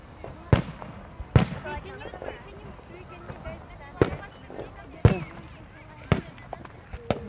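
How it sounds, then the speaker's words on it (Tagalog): Canada Day fireworks at Downsview Park in Toronto boom and crack in sharp bursts spaced about a second apart, under nearby voices and crowd chatter. "Kita yung fireworks. May fireworks din doon sa kabila."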